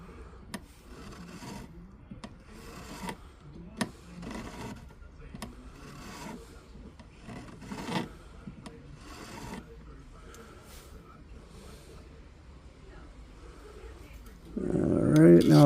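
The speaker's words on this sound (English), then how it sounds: "when you're filing the side down where we welded it to get it even with the rest of the shank" A hand file rasps in repeated short strokes along the welded side of a white gold ring shank, a steady, close scraping rhythm, ending in a louder burst of handling noise.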